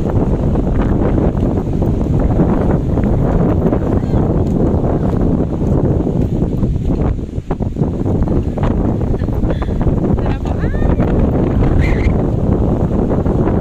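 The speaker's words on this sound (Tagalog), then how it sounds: "So windy today." Strong wind at Boracay beach roars steadily across the microphone, loud and constant, with waves and faint voices mixed underneath.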